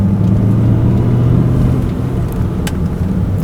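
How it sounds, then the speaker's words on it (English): A manual stick-shift car pulls away in a hill start, its engine a loud, steady low rumble heard up close for the whole stretch, with no talk over it. "make a nice quick transition with your right foot from the brake to the gas and take off"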